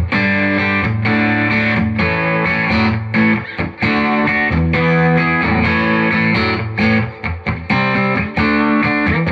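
Electric guitar played through a Fender Deluxe Reverb Tone Master amp with its attenuation raised slightly above the lowest setting, giving sustained, full chords and notes with a brief gap midway, loud and alone.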